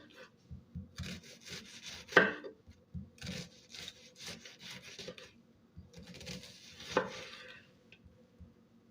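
Onion being chopped on a board by hand for a tuna casserole, a run of soft, uneven knife strokes and scrapes at close range, with a few sharper knocks among them.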